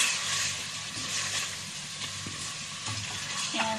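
Bihon rice noodles being stirred and fried in a pan, a steady close sizzle with scraping stir strokes throughout, no talking.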